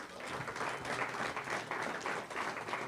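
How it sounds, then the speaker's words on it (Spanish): A church congregation gives a steady round of applause at a sermon on prophecy, faint and distant, with continuous dense clapping and no talking. "Denle un aplauso."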